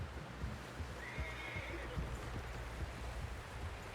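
A horse whinnies once in Red Dead Redemption 2, a brief mid-range neigh rising over a steady snowy ambient rumble with faint hoof clops.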